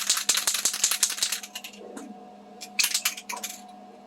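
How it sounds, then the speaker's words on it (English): Rapid rattling clicks from a shaken Revell spray paint can, bursts of sharp metallic knocks, a pause, then another short round of shaking. "Now we're going to give it a good shake."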